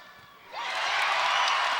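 Crowd in a basketball arena at a Halifax Hurricanes versus Island Storm game erupting into cheers and whoops after a quiet start, a loud sustained roar filling the hall.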